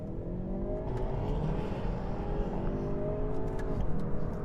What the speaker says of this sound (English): This is a 4-cylinder turbocharged petrol engine.